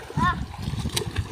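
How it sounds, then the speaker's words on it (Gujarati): A child dives into a village pond during a holiday swim, making a couple of short watery splashes and sloshes close by, mixed with voices talking. "હા લે ધૂપકો માર્યો મારા દીકરાએ"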